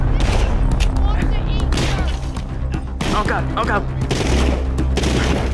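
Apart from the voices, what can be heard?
gunfire in The Walking Dead Saints and Sinners video game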